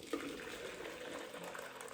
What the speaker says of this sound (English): I'm going to quickly mix some boiling hot water